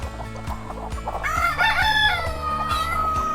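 Native-breed chickens cluck and crow in a farm coop while eggs are gathered, a rooster's call rising over steady rhythmic clucking.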